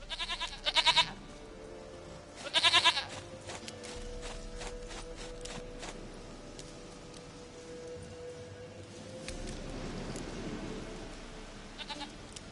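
A goat in The Witcher 3 video game gives two loud bursts of bleating early on, then a stretch of quieter ambient game sound with a soft rustling swell and faint clicks.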